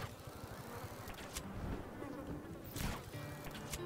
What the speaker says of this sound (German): Was sollen denn diese Fliegengeräusche hier eigentlich?